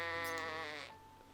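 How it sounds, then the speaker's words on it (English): Sheep bleating loudly and close by in one drawn-out, wavering harmonic call that trails off, with no talk over it. "Here come the sheep"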